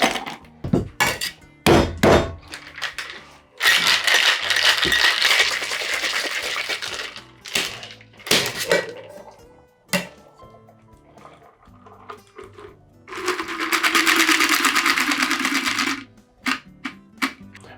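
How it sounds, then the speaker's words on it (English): Ice clatters into a metal cocktail shaker for a Pisco Sour, with sharp knocks and loud rattling runs broken by pauses, close and prominent. "Now I'm going to go ahead and ice this down."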